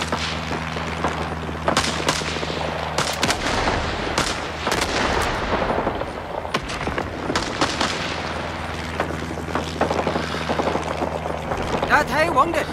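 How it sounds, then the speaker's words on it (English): Artillery barrage in the Vietnam War shooter Rising Storm 2: Vietnam, with repeated booming blasts and gunfire cracks across the whole stretch, loud and dense, over a steady low battlefield rumble, with radio chatter in the mix. "Artillery support is in 1 minute."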